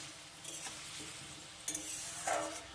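Spices are stirred in a cooking pan for an ash gourd dish, a soft sizzle broken by a few light scrapes and clinks of the spoon against the pan.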